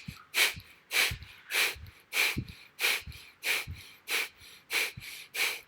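Forceful nasal exhalations from a yoga breathing exercise, the navel pumping the breath out in about ten sharp, evenly spaced bursts a little over half a second apart, close and loud with no talk.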